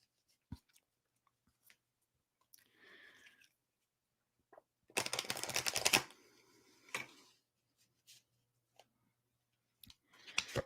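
Tarot cards are shuffled in short bursts: scattered light clicks and taps, then a louder riffling flurry near the middle, followed by a few more soft card sounds in an otherwise quiet room.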